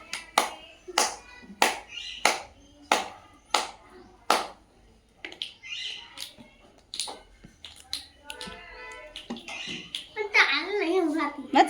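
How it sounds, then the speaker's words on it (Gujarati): Children in a primary-school maths classroom play a clapping and finger-snapping pattern game, producing sharp, evenly spaced claps at a steady rhythm before breaking into scattered taps while young voices talk over them. "ચલો શરૂ તાળી પાડો"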